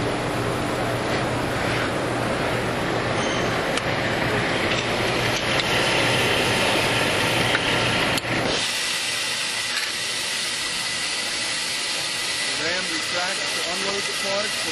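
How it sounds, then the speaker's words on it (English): Royal Master CNC centerless grinder with robotic loading grinding six two-diameter parts at a time at a trade show, a loud steady hissing machine roar that drops to a quieter whine partway through. "This allows for very efficient, very accurate, centerless grind of 2 diameter parts."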